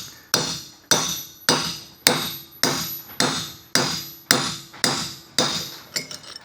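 A hammer strikes a chain link on an old inherited anvil in about ten sharp, ringing blows, each followed by a short decay, spaced at a steady rhythm just over half a second apart.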